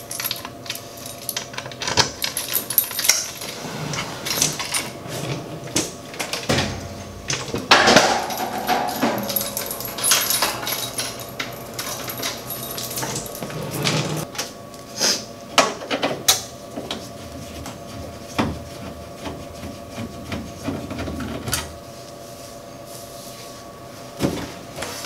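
Screws being taken out of a panel on a laundromat dryer: clinking metal, tool clatter and rattling mechanism noises at close range, busy and irregular, with no talking.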